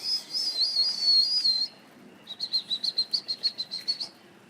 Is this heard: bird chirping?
yes